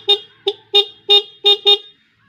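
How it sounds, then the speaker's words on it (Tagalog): A loud snail-type car horn honks six times in short, uneven blasts, close by, with brief silences between each toot. "pag ni-on natin gagana yung ating malaking busina"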